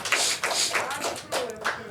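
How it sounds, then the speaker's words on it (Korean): Church congregation clapping in encouragement during a Sunday worship service, a few distinct bursts of hand claps in uneven rhythm, close and moderately loud, with a voice speaking briefly among them. "격려의 박수 한번 칩시다."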